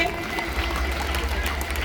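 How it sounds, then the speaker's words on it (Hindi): Close, dense audience clapping at an Indian gathering forms a steady wash of noise that lasts about two seconds, with voices mixed in. "जोरदार ताली"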